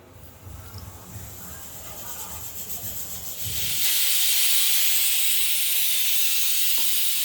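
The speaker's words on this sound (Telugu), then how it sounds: "ఇప్పుడు నేనైతే మిక్సీ పట్టేసుకుంటాను." A mixer grinder grinding chicken curry masala spices: a faint low rustle at first, then the motor cuts in around the midpoint with a loud, steady, harsh whirring hiss that holds to the end.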